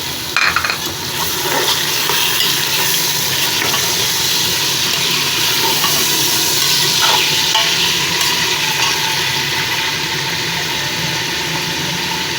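Chicken pieces sizzle and fry in a pot with onions softened but not browned, stirred steadily for a turnip and meat curry; a continuous close frying hiss with scraping stir sounds and no talking.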